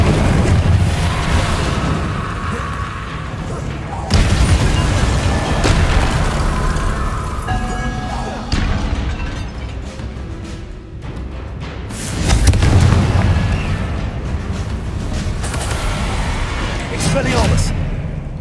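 Fiery Confringo spell blasts from a Hogwarts Legacy battle, a few heavy booming explosions with sharp onsets, loud and close, amid dense combat effects and a voice calling out spells.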